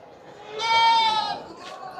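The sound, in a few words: goats bleating at livestock market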